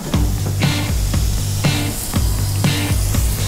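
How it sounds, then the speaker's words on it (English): Sliced mortadella sautéing in a really hot pan with a little olive oil gives a steady loud sizzle, with repeated sharp bursts of spattering rising through the hiss, close up and with no voices. "I'm gonna saute this in a really hot pan, a little bit of olive oil."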